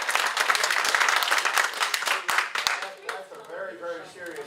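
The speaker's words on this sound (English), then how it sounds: "They're clapping for him." A crowd at a political town-hall confrontation breaks into sustained clapping, dense and fairly close, then thins out and fades while people talk over the end.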